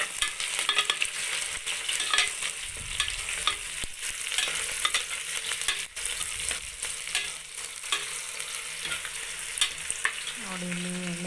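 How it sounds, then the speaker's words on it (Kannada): Onions frying in oil in a pan for spinach pulao, a steady close sizzle with occasional stirring scrapes, fairly loud and continuous with no talking. "ಅದು ಸ್ವಲ್ಪ ಫ್ರೈ ಆಗೋವರೆಗೂ ನಾವು ಸ್ವಲ್ಪ ಹುರ್ಕೋಬೇಕು ಎಣ್ಣೆಯಲ್ಲಿ ಈರುಳ್ಳಿನ."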